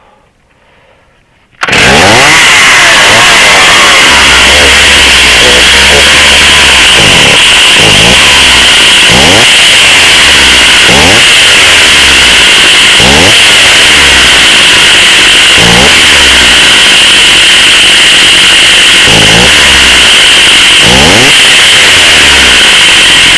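Close, loud chainsaw starts up and runs at a steady high whine, with repeated trigger blips surging the revs roughly every couple of seconds during carburetor adjustment; no voices.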